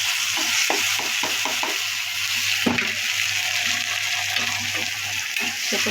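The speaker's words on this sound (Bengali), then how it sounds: "এই তেলের ভিতরেই পেঁয়াজ কাঁচামরিচ দিয়ে দিই" Onions and green chilies fry in hot oil with a steady, loud sizzle throughout, broken early by a few quick spatula clicks and one sharper knock, close and alone without speech.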